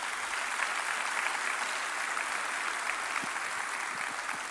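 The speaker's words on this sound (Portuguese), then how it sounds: "Pode dar um aplauso, é verdade." Church audience applause at a sermon, steady and diffuse from start to finish, a dense wash of many hands at moderate distance with no single claps standing out.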